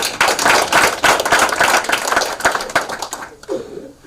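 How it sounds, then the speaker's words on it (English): Graduation ceremony audience clapping, a dense, loud burst of many hands that fades out after about three seconds, leaving a quiet tail. "Clap for yourself, guys."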